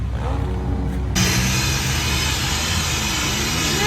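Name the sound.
Milwaukee blower cooling a motocross motorcycle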